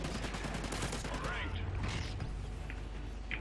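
Remington shotgun gunfire in Call of Duty: Ghosts, a flurry of sharp shots and mechanical clatter up front, then sparser distant reports under low background talk.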